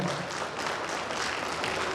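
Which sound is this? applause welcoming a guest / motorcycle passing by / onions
applause welcoming a guest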